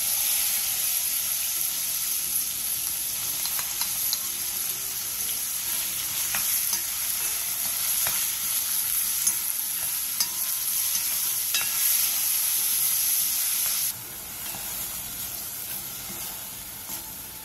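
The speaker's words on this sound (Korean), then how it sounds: "냄비에 참기름 1스푼 반과 앞다리살, 양파를 넣고 고기의 핏기가 사라질 때까지 센 불에서 볶아주세요." Pork shoulder and onion stir-fry over high heat in sesame oil in a pot, a loud continuous sizzle and hiss with occasional stirring scrapes, close up and without speech, easing slightly near the end.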